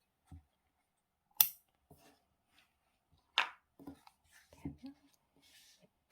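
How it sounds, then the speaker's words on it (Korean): Cutting material for a round wooden tea coaster: one sharp snip stands out, then a second cut a couple of seconds later, with faint soft handling sounds and quiet murmuring in a hushed room. "쫙 잘라주세요."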